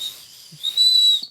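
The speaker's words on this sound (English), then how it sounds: "you can still whistle it." A small novelty whistle blown softly by mouth, a brief breathy peep at first, then a longer steady shrill tone that swells and ends with a short catch.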